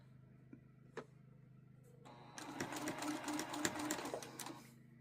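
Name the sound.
sewing machine stitching fabric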